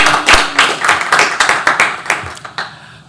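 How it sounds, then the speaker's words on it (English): An audience at a university talk on environmental resiliency and climate technology claps in a brisk burst of applause that rises quickly, holds, and tapers off within a few seconds. "So please welcome her with a big round of applause."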